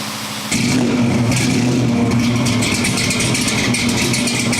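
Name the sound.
engine cold start then idling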